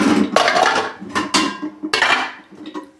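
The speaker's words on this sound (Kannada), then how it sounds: "ಖಾಲಿ ಪಾತ್ರೆ ಇಡ್ಲಿ ಪಾತ್ರೆ ತಗೊಂಡಿದ್ದೀನಿ ನಾನು" An empty metal idli steamer pot is handled in a kitchen, giving several close, loud clanks and rattles in short irregular bursts, each ringing briefly before fading.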